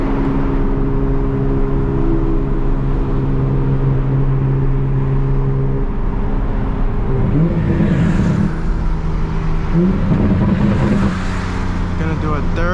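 A turbocharged Toyota Supra MK5 on a street tuning run with a low-boost Remnant Performance turbo kit, engine droning steadily then pulling through gear changes with rising revs, loud and close from inside the car.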